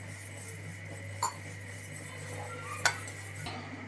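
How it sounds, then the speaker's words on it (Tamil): Moong dal roasts in a pan and gets stirred, making a quiet dry rustle with a couple of small metallic clinks over a low steady hum. "இதில் 100 பாசிப்பருப்பு நல்லா வறுத்துக்கணும்."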